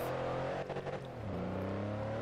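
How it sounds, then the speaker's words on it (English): A SWAT van engine revs at the start line in the Forza Horizon 2 racing game on Xbox 360, a loud continuous motor drone with a rising pitch shift partway through. "max out the revs, and we are off."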